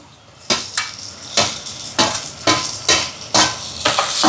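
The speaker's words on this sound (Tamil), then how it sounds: "இப்போ பாருங்கள் வெங்காயம் எல்லாம் நல்லா வதங்கி வருது" Onions sauté in a pan for a crab curry while a utensil stirs and scrapes them in regular strokes roughly every half second, over a constant soft sizzle.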